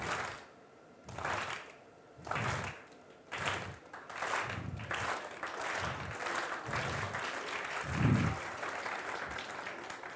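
Audience clapping at a science show, a modest crowd producing uneven bursts of applause in a hall, moderately loud with a person speaking intermittently over it.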